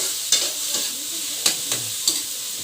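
Pork cubes sautéing in a frying pan, a steady close sizzle broken by several sharp stirring scrapes and clinks at uneven intervals, with no talk.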